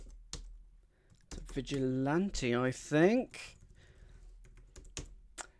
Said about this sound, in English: You start typing it, I'll start typing it.